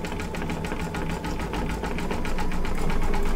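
An embroidery machine stitches a zigzag in the hoop, with a steady, fast rhythmic whirring and mechanical chatter running continuously and close up.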